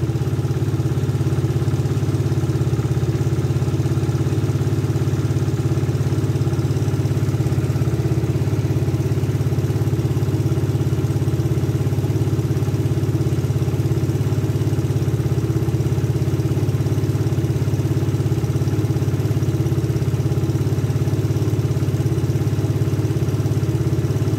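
A Suzuki Satria FU 150 motorcycle engine warming up at idle, a steady, close, even rumble with a constant mechanical clatter and no change in revs throughout.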